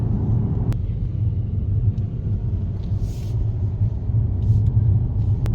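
Steady low road rumble inside a moving Mercedes-Benz E-Class, a continuous deep drone with faint tire and wind noise and a couple of small clicks, no talking.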